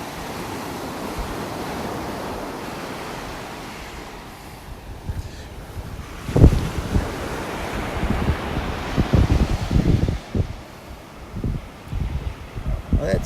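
Ocean waves washing up on a beach in North Naples, Florida, a steady wind-blown surf wash that grows into closer, louder splashes and rushes of water later on.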